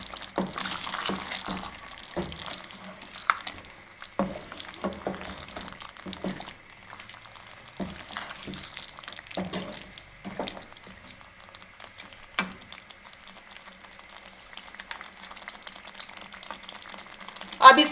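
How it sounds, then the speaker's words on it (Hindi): Mutton karahi with fresh cream fries quietly in a wok, giving a soft continuous sizzle broken by scattered clinks and scraping stirs, with some faint voice in the background. "अब इसको 1 से 2 मिनट के लिए भून लेंगे।"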